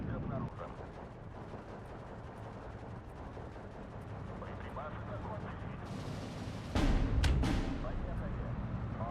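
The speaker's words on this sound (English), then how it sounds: "these guys are going to have to run because that artillery is dangerously close" Artillery fire in the Steel Division 2 game. A low rumbling barrage builds under someone talking, and a louder cluster of booming blasts comes near the end.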